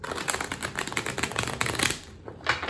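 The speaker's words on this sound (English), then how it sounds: "This is like the most difficult deck on the planet to shuffle" Rapid riffling and flicking of stiff tarot cards being shuffled close by, in quick bursts with a brief pause near the end.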